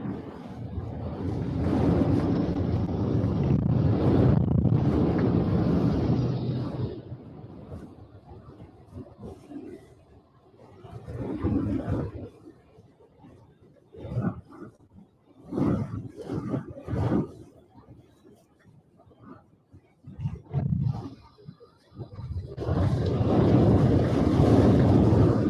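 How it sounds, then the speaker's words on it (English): Hurricane Milton wind gusts in Florida, roaring and buffeting the microphone in loud surges that come and go, with heavy blasts at the start and end and choppier gusts between. "So we had 90 to 100 mile an hour wind gusts at CP."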